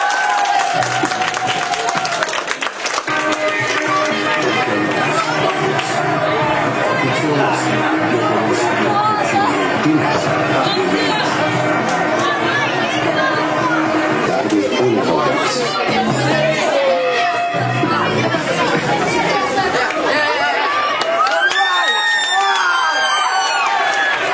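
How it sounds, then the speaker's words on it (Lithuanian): A basketball arena crowd claps and chatters for the Lithuanian national team during a timeout, a steady loud wash of applause and murmur while a commentator talks over it. "Aplodismentai jo vadovaujamai komandai, rezultatas 48-46."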